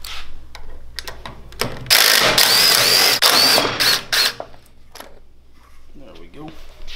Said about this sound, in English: So we're going to start off by taking these wheels and tires off.